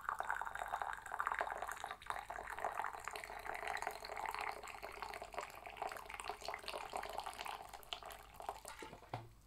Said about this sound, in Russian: Наливаем полный чайничек кипятка.